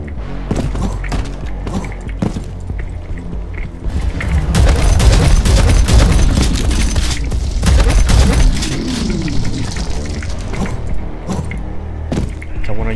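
Heavy rocket launcher blasts from the Prodeus first-person shooter, loud booming explosions and thumps packed close together, with a dense sustained roar of impacts through the middle and fainter mechanical clatter around it.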